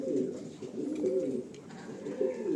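A Spanish pouter pigeon gives soft, low, rolling coos in a steady repeated run, close but fairly quiet, with no voices over it.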